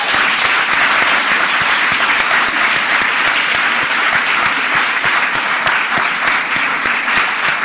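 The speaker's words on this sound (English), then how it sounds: "this deserves a huge applause" Dense, sustained applause fills a lecture hall at a university talk on the fashion house Gucci, loud and steady throughout with countless overlapping claps and no voices rising above it.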